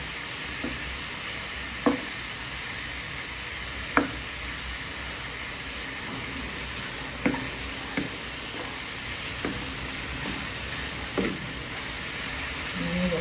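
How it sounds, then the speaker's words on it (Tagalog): Steady sizzling of food frying in a pan, with occasional sharp clinks of a utensil stirring against the pan. "Dito na rin sa prito. Nasa prito."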